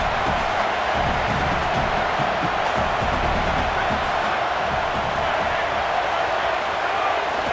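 Home crowd roaring in a college football video game featuring Georgia Tech at Virginia Tech, a loud, steady wall of stadium cheering that holds an even level throughout.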